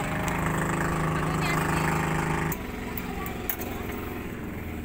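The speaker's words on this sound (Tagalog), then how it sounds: "Inaano ni Kuya ang makina." Engine running while someone works on it, a steady loud mechanical drone with a strong harmonic hum that drops in pitch and level partway through, then keeps running lower with a few sharp clicks.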